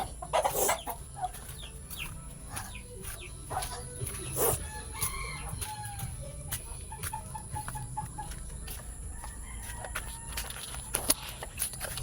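Chickens and chicks in a yard, with clucking, peeping and a rooster crowing at moderate distance, scattered calls over a steady low background, with occasional footsteps and brief voices.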